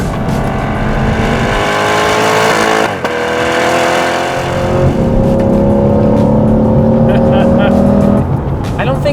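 A 2022/2023 Chevrolet C8 Corvette runs at high speed on an open road, its engine a loud steady drone with rising gear tones and a brief shift dip midway, and a voice talking over it.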